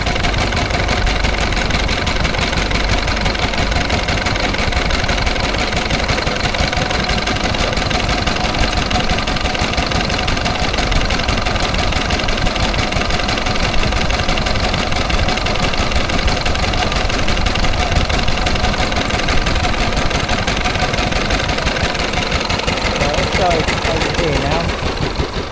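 A steady mechanical engine chugs continuously and fairly loud throughout, with a constant rhythmic knock and no pauses.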